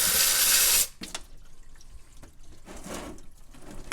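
Oil splashes and drips out of the oil filter housing of a 2011-2018 Porsche Cayenne GTS with the 4.8-litre engine: a brief hissing rush of liquid, then a steady trickle and spatter nearby.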